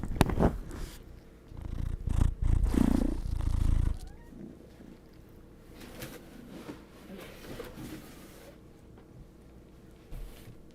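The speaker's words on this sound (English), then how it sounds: "can listen to the cat for a moment." A cat purring close by indoors, a soft rumbling burst at first, then fading to a quiet steady purr with some handling noises mixed in.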